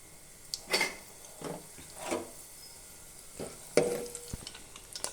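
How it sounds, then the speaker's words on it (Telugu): Tempering spices crackle and sizzle in hot oil, giving a few faint, spaced bursts of spattering with soft clinks over a quiet background. "ఇగోనండి తాలింపు దినుసులు వేసేసాను."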